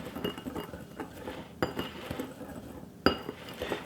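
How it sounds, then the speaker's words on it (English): A whisk clinks against a bowl while paprika, lemon pepper seasoning, thyme and garlic powder are mixed together, producing quiet, close, irregular metallic taps and scrapes with a few sharper clinks. "And I'm going to whisk this all together."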